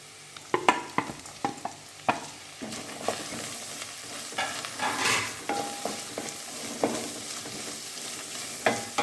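Chopped onions tipped into a hot pan and frying for Kerala puli inji, a gentle sizzle punctuated by frequent scrapes and clacks of a stirring spoon against the pan.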